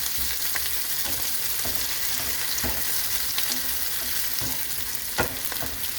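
Vegetables sizzle and brown in an old frying pan from a 25-year-old set, a steady close hiss of frying with scattered pops and crackles, occasional stirring clatter, no voices.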